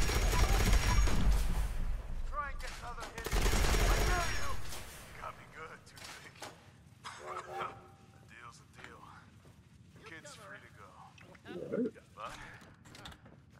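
Gunfire in the video game Fallout 76: a couple of loud, dense bursts of shots early on, then quieter game sounds while someone talks over them.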